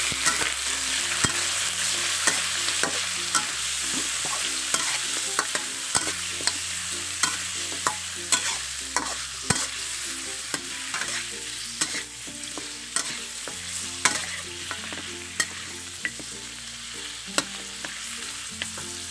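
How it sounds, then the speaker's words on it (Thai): Pork bones fry in oil with golden garlic, giving a steady sizzle broken by frequent scraping and clinking from a stirring utensil, while soft music plays underneath. "พอกระเทียมหอมเหลืองแล้วเราก็ใส่ กระดูกหมูลงไปค่ะ"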